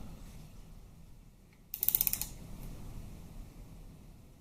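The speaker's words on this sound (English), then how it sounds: "tighten them down a little bit more with the wrench" A wrench's ratchet clicks in a quick burst of about half a dozen sharp ticks while bolts on a Harley-Davidson Twin Cam 88 engine are tightened, set against a quiet workshop background.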